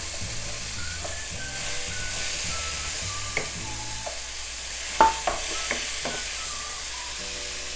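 Potato, pea and carrot curry being stirred in a pan, soft sizzling underneath with a few spoon scrapes and clinks against the metal, fairly quiet and close.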